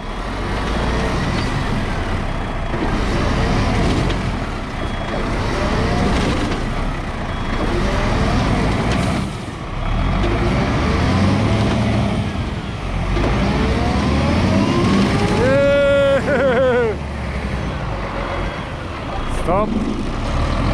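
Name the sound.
truck engine revving while pulling on a tow rope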